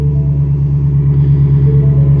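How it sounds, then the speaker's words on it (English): Tony's car engine running right after startup, a loud, steady low rumble with a strong even idle hum held close and continuous, with no voices over it. "So we're gonna fire up Tony's car here."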